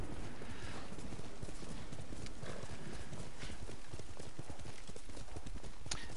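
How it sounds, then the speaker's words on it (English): Horse hooves clip-clop in a steady rhythmic gait while riding across terrain in the video game Ghost of Tsushima, moderately loud and continuous with no speech. "let's just go directly there on the horse rather than fast travel"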